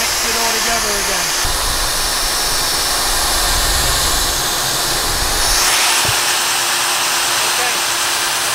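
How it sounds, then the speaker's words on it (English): An air compressor runs steadily while foam concrete (aircrete) is mixed for precast panels, giving a loud, continuous broadband hiss and roar throughout with slight shifts in tone, and a voice speaks briefly near the start. "turn off the compressor"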